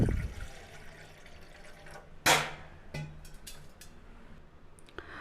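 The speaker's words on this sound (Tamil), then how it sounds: "இப்போ நம்ம ஒரு பாத்திரத்தில் 250 ml தண்ணீர் ஊற்றிக்கலாம்." Water splashes and pours into a cooking pot in short bursts, about 250 ml, with a louder gush partway through and soft drips between.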